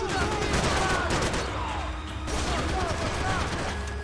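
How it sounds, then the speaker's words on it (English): Gunshots fired at the ceiling in Max Payne 3, a fast barrage of loud cracking shots with mechanical clatter that briefly drops off and then resumes, heard up close over the game's busy ambience. "I'm shooting at the ceiling."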